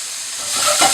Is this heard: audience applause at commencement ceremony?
no